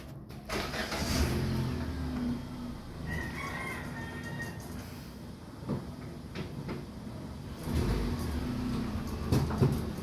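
A Hyundai Accent with a freshly installed manual transmission has its engine started in a workshop, cranking and catching before settling into a steady idle, with a rooster crowing faintly in the background.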